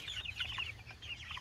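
Juvenile chickens of mixed breeds, including white leghorn hens, make soft rapid clucks and chirps in a coop, a quiet cluster of brief calls with no speech.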